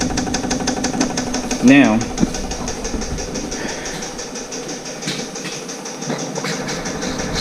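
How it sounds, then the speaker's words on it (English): A diesel military tent heater hums steadily with its fuel pump running, a constant close mechanical drone with a faint rhythmic ticking, while someone talks briefly over it. "You hear the fuel pump running."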